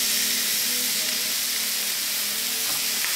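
Ground beef sizzles loudly on a hot, smoking, cooking-sprayed pan, a steady bright hiss of frying with faint stirring, close and unbroken, with no talking.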